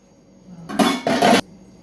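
Chicken bagara semiya being served onto a plate, two close clattering bursts of utensil scraping against dishware, loud and brief, with no voices.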